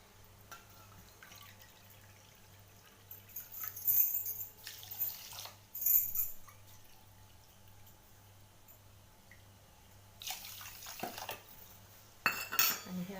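Water runs and splashes into a metal pot for gulab jamun sugar syrup, with clinks of utensils and dishes in a quiet kitchen and a few louder pours in bursts.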